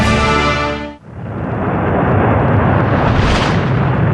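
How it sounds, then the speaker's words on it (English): Rocket launch thrust on a launch pad, a loud sustained roar of flaming engines that rumbles continuously and swells toward the end, following a brief musical passage that cuts off abruptly. "The concentrated power of fire is rarely more evident than on the launching pad. 7 million pounds of flaming thrust have propelled humanity to new frontiers."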